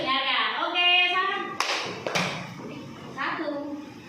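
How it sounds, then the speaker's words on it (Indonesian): Two sharp hand claps cut through the chatter of children's voices, spaced about half a second apart. "Tepuk dua, tepuk dua."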